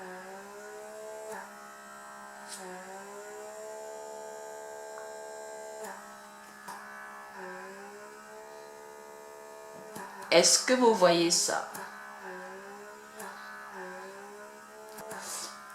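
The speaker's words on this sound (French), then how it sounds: "C'est vraiment un aspirateur." A blackhead suction vacuum device runs with a steady electric motor hum and harmonic whine throughout, with a brief louder burst of sucking noise midway; a voice speaks over it.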